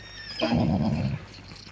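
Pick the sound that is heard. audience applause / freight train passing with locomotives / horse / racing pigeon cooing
horse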